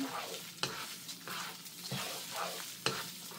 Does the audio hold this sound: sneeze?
no